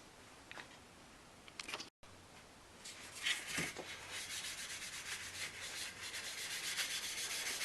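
Steel wool scrubs the aluminum lower window trim of a Ford Ranger B4000 with a faint, steady rubbing that grows denser and more continuous toward the end, after a few brief scratches.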